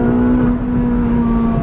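A Ferrari 458 Speciale Aperto convertible idles with the top down in bumper-to-bumper traffic, a loud, close, steady engine drone with a strong low hum and no speech.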